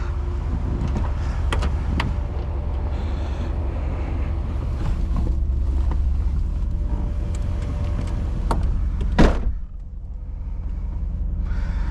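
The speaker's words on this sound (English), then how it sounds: "this thing, good old terracotta with a V8 under the hood." A 1982 Toyota Supra with a swapped 1UZ V8 and automatic transmission drives along, giving a steady, loud engine and road drone with wind noise throughout and a brief sharp burst near the end.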